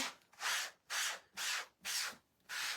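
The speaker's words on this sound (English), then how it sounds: "this is a board eraser, and see how it's helping me remove the rest of that paste" Board eraser rubbed over a surface to strip off leftover wallpaper paste, giving five steady back-and-forth scrubbing strokes in an even rhythm, close and moderately loud with no talking.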